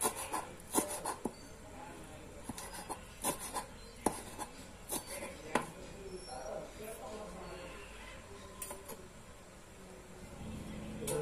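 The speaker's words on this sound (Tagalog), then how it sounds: "paghihiwa na po ako ng kimchi" Kimchi being cut with a knife on a board for homemade pancit guisado, giving irregular sharp chopping taps in short bursts, close and moderately loud over a faint kitchen background.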